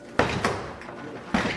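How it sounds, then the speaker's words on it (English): Two sharp bangs against a door that is being forced and broken, the first a double knock near the start and a second heavy thud just before the end, each followed by a rattling decay, with no talk. "you guys are breaking the door."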